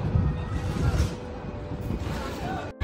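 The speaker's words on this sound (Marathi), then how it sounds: "तर मित्रांनो बघा, ही वाली होडी आली आता." A passenger boat pulls in at the jetty for the Elephanta Caves crossing, its low engine rumble and water wash steady and fairly close, with indistinct voices in the background.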